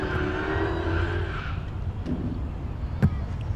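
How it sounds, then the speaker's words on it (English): A maroon Dodge Challenger drag car does a burnout at Tulsa Raceway Park, its engine and squealing tires roaring loudly, then fading into a lower rumble with a sharp pop near the end. "Frank Wanaka coming at you, the Maroon Challenger, doing the burnout in the left lane"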